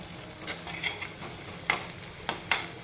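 Ginger and chilli sautéing in a pan, a soft sizzle underneath with a handful of sharp spatula clicks and scrapes, the loudest coming in the second half.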